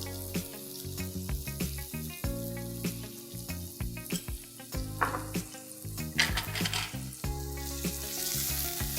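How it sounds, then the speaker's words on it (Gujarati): Chopped onion sautéing in a pan for a cheesy vegetable quesadilla: a steady close sizzle broken by repeated scrapes and clinks of a spoon stirring against the metal, with no talking. "એને સાંતળી લઈશું"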